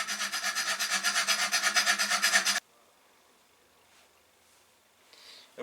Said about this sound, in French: on fait tout avec des petites limes comme ceci